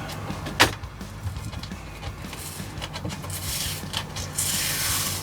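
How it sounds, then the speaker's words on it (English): Tape peeled up off an electric skateboard deck, giving scattered rubbing and tearing sounds with a sharp rip near the start and a longer hissy peel toward the end, close by. "And then it's just a case of peeling the tape up."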